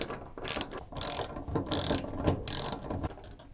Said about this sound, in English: you can now remove the old hinge by using your 7mm socket set